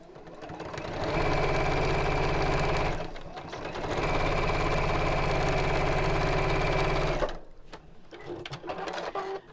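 A sewing machine stitches the front of a purse to its lining across the top, running in two steady bursts of whirring motor noise separated by a short pause, close and loud, then stopping.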